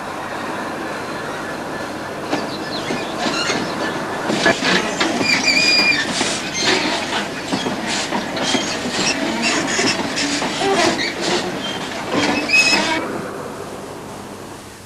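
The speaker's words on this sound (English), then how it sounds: "A coal train is passing on its way to the Abertawe power station." A coal train bound for a power station rolls past near the South Wales coast, with a continuous rumble, rhythmic wheel clatter and high metallic squeals building and easing over about fifteen seconds, loud and close.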